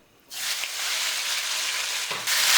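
Chicken hits hot vegetable oil in a pot or sauté pan over high heat for mastava, erupting into a loud, continuous sizzle after a brief quiet start, with a fresh surge near the end.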